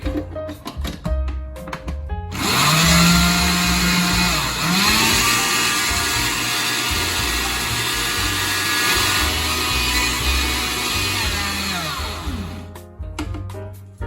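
A kitchen blender whirs loudly and steadily for about ten seconds while blending homemade green pesto with added oil, starting abruptly after brief clattering and winding down at the end, with no talking over it.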